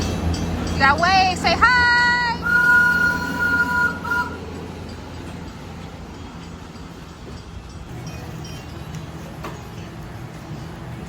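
A train at Disney's Animal Kingdom rumbles steadily over ambient crowd noise. A whistle-like tonal squeal rises near the start, then the low rolling sound continues. A voice speaks briefly over it.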